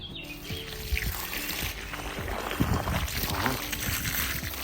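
Water poured from a container onto a newly planted houseplant in a garden: a steady splashing trickle mixed with light clatter and handling knocks, with faint birdsong in the background.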